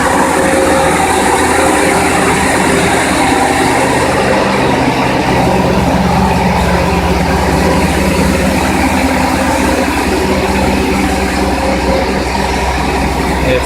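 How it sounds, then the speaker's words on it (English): A flexible wire and cable bunching machine making 0.5–6 mm² wire, with many thin strands fed in and twisted together, runs with a loud, steady mechanical roar and hum that holds without a break throughout. "Multi thin wires go through into the machine in bunch."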